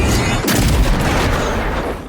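Arquebus rifle gunfire in Avowed, a loud, close, booming blast that rolls into a dense rumbling tail over about two seconds.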